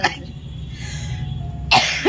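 A woman coughs in short bursts, a couple of rough coughs at the start and a sharper one near the end, close by with a quiet low background between them.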